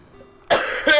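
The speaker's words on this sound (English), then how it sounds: "Sorry for the coughing." A single harsh cough bursts out close by after a quiet moment, followed by a second rough hack.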